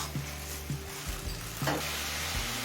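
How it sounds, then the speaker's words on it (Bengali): Ground spices with a little water sizzle and stir in a hot pan, a steady close frying hiss with soft scraping strokes throughout. "জল দিয়ে সমস্ত মশলাটা মিশিয়ে নিয়েছি"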